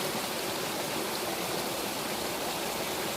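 Storm runoff rushes like a stream through a vegetable garden flattened by a storm, a steady, loud, continuous wash of flowing water with no breaks or voices.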